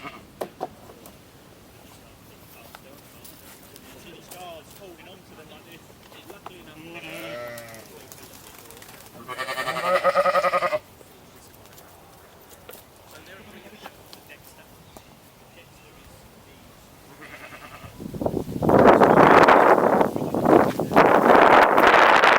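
Sheep bleat in a herd outdoors, a few wavering calls spaced apart, with wind buffeting the microphone and louder gusty rumbling near the end.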